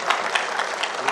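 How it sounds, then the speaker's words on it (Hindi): A modest audience at a film studio workers' union event claps for the guests on stage, a soft, steady patter of hands that sounds somewhat distant. "इनका सबका जोरदार तालियां बजा करके आप अभिनंदन करें"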